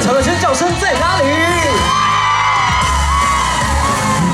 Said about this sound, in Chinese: 全场的尖叫声在哪里？